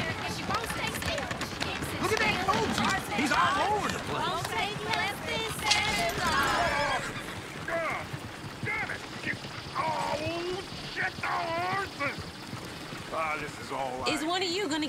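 Horse hooves clip-clopping at a run in the game Red Dead Redemption 2, steady and close throughout, mixed with singing and talking voices.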